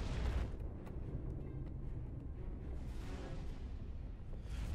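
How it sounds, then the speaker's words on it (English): A rumbling explosion in the video game Bayonetta opens with a loud boom, then a sustained roaring, crackling wash of debris and fire noise that swells again near the end, with no talking. "That explosion looks kind of bad."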